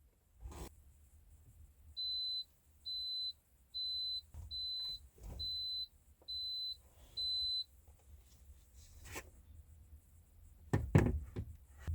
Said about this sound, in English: We had some beeping going on.